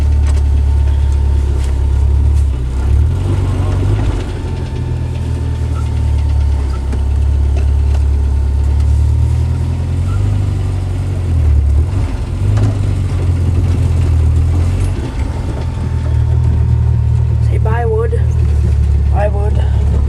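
A 1990 Jeep Wrangler engine idles steadily after a cold start, a loud, close, continuous low rumble with slight shifts in pitch and a few brief higher chirps near the end.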